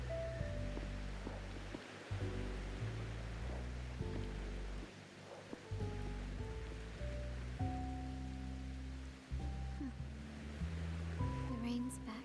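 Steady rain patter in the video game Wuthering Waves fills the scene, a dense wash of drops with tonal music-like layers over it and brief dips in level.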